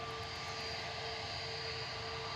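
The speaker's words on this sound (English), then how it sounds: "next to go, EasyJet Flight 2029, operated by Guzzle, GUZLL, A320neo, heading across to Lanzarote" EasyJet Airbus A320neo jet departing Manchester Airport, a steady distant engine roar with a faint whine running through it, constant and unbroken, no voices.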